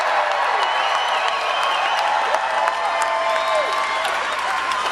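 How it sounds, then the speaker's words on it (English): Sustained crowd applause and cheering fills a Donald Trump rally in Melbourne, Florida, steady and dense throughout, with voices mixed into the noise. "Give him a big round of applause."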